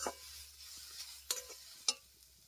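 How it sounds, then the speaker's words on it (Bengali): A spoon stirs a cooked mixture of softened carrot and oats in a pot, giving a few soft scrapes and two sharper clinks against the pan, quiet and close with no talk. "দিয়ে আবারও খুব ভালো মতো এটা মিশিয়ে নেব"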